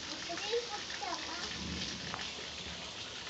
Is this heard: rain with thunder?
yes